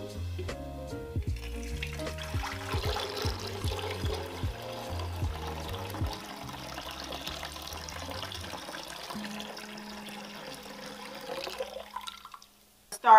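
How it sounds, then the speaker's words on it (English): Cold water runs and pours into a flower vase with floral food, a steady close splashing stream that continues for about ten seconds, then trails off near the end with a few clinks. "Cold water, floral food inside."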